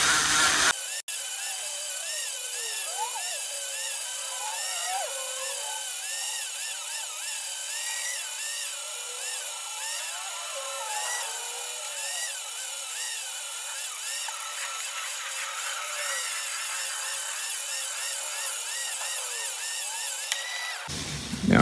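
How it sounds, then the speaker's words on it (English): A Dremel rotary tool works a piece of silver held firmly by hand, a loud continuous high-pitched whine with wavering pitch as the bit bites and eases off, running nearly unbroken for about twenty seconds. "So just slowly, gently, hold this firm with this hand, don't let it flick out your hand with the Dremel."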